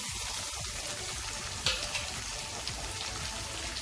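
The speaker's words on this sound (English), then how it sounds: "I'm going to fry these onions till light brown" Diced onions, two medium ones, sizzle in melted butter in a pan, a steady broadband crackle with a few brief clinks and spits, close and moderately quiet with no talking.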